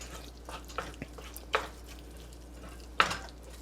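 Ground chicken is stirred and chopped in a frying pan, with scattered metallic scrapes and taps of a utensil against the pan over a faint sizzle, two sharper clanks standing out.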